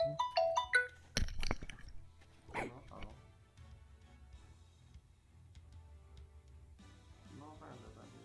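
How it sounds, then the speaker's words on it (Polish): Phone ringtone chirping in a short melodic burst at the start, followed by a sharp knock and a short spoken remark over low background hum. "Telefon, telefon."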